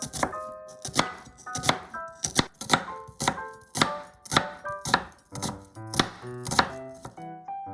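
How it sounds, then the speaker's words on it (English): A knife slices an onion thinly on a cutting board in a steady run of crisp, close chops, roughly a dozen even strikes, loud and clear with no talk. "First, cut the onion. Slice it thinly."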